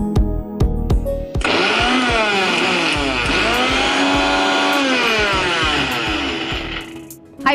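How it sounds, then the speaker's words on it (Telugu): A kitchen mixer grinder whirs loudly in its jar, grinding coconut for a South Indian coconut rasam. It runs as one steady burst of several seconds after a short pause, then cuts off. "జార్లో తీసుకొని ఒక్కసారి జస్ట్ ఆన్ ఆఫ్ అంతే"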